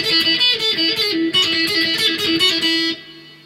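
Electric guitar plays an intro riff, a quick busy run of bright picked notes with steady rhythm, loud and close, fading out at the end.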